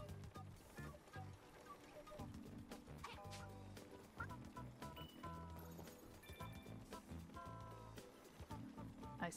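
A chicken clucking in the video game New Super Lucky's Tale, with fowl-like clucks and gobbles amid busy game music and effects, while a player talks over it.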